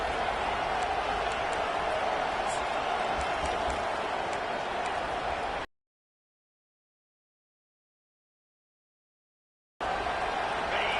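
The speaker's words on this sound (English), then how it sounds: "Man, this crowd really affecting the football game" A Clemson home football crowd roars in the stadium as a dense, steady wall of noise, which cuts out completely for about four seconds and then returns just as loud.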